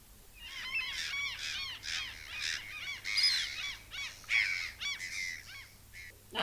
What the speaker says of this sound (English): Sorry, I'm recording this from my boat. The seagulls keep attacking me today.